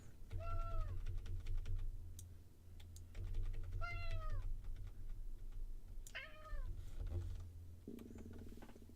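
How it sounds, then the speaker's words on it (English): A house cat meows loudly and insistently in three drawn-out, rising calls spaced a few seconds apart, close to the microphone, over a steady low hum and faint keyboard typing. "My cat's currently yelling at me."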